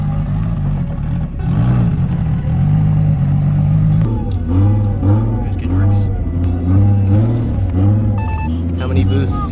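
An RB25 big-turbo Nissan Laurel engine running just after its first start, a loud rumbling idle that rises and falls in repeated revving pulses, with voices talking over it.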